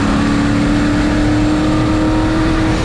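Turbocharged 1951 Chevy race truck engine roaring steadily and loudly at high revs, a continuous close-up drone with a sustained tonal whine and no talk.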